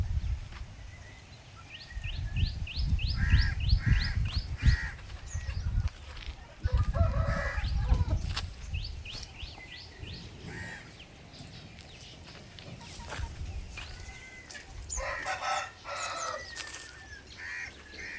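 Farm chickens in a morning farmyard cluck busily after feeding, with repeated nearby rooster crows and occasional wing flaps over a steady low background.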